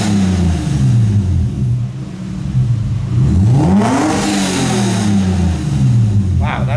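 A Lexus IS300 Sportcross with a catless BCR exhaust revs up close, a deep rumbling drone that swells into a rising rev and falls back.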